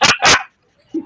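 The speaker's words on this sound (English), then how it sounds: "I never thought that a barking dog was going to be the thing making the most noise on a lake" A dog gives two sharp, loud barks close by in quick succession, then a short pause before a faint low yip.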